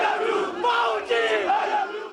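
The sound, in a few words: party workers chanting slogans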